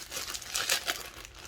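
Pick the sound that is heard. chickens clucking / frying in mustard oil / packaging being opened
packaging being opened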